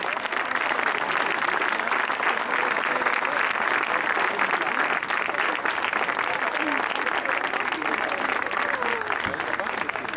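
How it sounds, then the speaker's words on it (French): A large outdoor crowd at a show jumping grand prix prize-giving applauds German rider Lars Vollmer with dense, steady clapping that holds level throughout, and an announcer's voice is faintly mixed in. "Je vous demande d'applaudir Lars Vollmer."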